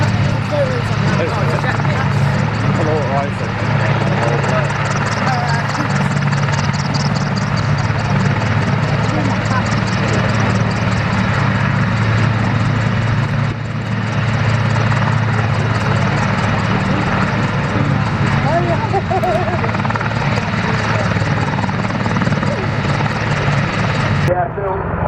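A Wildcat and two Apache helicopters fly at the RAF Cosford air show. Their loud, continuous rotor thrum and turbine roar stay steady throughout while a commentator talks over the noise.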